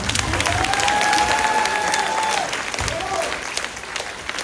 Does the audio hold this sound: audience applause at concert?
yes